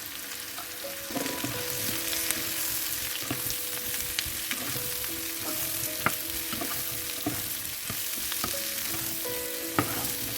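Chopped zucchini fries with turmeric in a pan, giving a constant, even sizzle with a low steady hum underneath and occasional soft clicks from stirring, with no voices.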